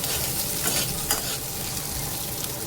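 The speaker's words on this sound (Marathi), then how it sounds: "छान परतून घ्यायचं कांद्यांना." Two to three medium onions sautéing in hot oil, with a dense continuous sizzle and the scrape of stirring, close up and alone.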